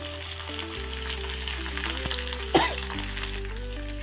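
Tamarind and spices sizzling in hot tempering oil for a South Indian chutney, a steady crackling fry under soft background music with one sharp louder spatter midway.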